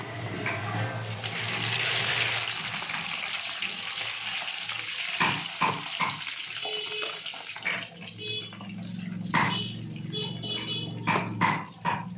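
Ground spice paste for a home-style dondakai (ivy gourd) curry hits hot oil with a loud, hissing sizzle that settles into steady frying, followed by sharp clinks and scrapes of a spoon against the pan, close up.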